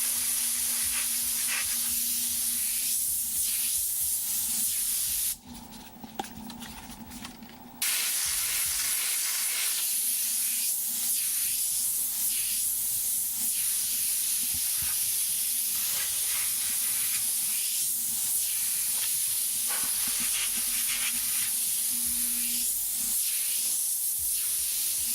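An airbrush sprays paint along a stencil edge as a steady, close airy hiss that runs almost without a break, dropping out once for a couple of seconds before resuming just as evenly.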